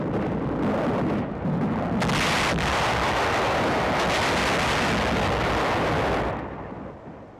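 Satchel charges blast through cave positions in a wartime combat scene, a loud sustained roar of explosions and rumbling debris that fills the whole stretch before tapering off.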